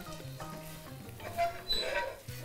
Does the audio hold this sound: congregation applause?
no